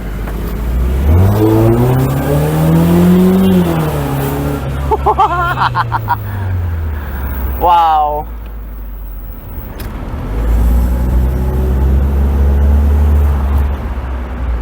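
A 1996 Mercedes-Benz SLK 230 Kompressor with a supercharged four-cylinder engine revs and accelerates through the gears, loud and close from inside the car, with a brief spoken exclamation.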